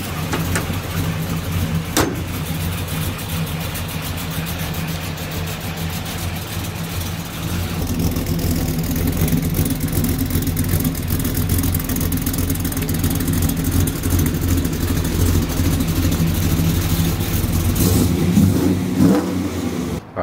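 A Chevrolet Trailblazer SS engine fitted with a BTR stage 4 cam runs at a loud, steady, lumpy idle, its deep uneven rumble growing somewhat fuller midway through with no voices.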